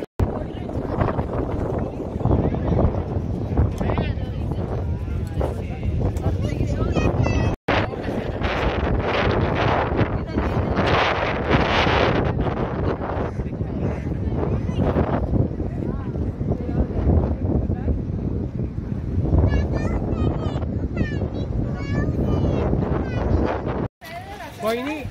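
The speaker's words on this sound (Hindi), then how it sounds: "कितनी मस्त हवा चल रही है।" Strong wind gusting steadily across an open lookout above Vagator beach, a loud continuous rush buffeting the microphone with a few brief drops, while people talk throughout.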